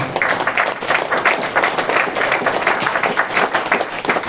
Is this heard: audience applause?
yes